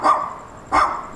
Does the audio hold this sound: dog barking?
yes